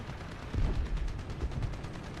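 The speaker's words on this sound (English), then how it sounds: "There's an anti-air shooting at you." An anti-aircraft gun in the War Thunder combat game fires a rapid string of muffled, thudding shots, steady and fairly distant, over low background rumble.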